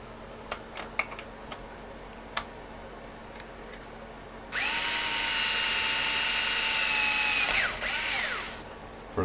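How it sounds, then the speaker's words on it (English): A power drill bores holes for tie wraps on a pan-tilt FPV camera mount for a Unimog, preceded by scattered clicks and taps, then one loud, sustained whine lasting about three seconds before winding down. "drill me a couple holes."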